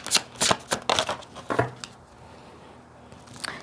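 Oracle cards are shuffled in quick, papery riffles, several brisk bursts close together, before the hands fall quiet for the last second and a half.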